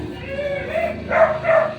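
Several dogs barking downstairs in a home, with two short, fairly loud bursts of yelping barks near the end over a steady low background murmur.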